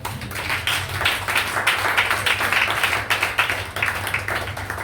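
A church congregation claps steadily in rhythm while acclaiming the Lord, the massed hand claps sustained and fairly loud, with a low musical hum running underneath.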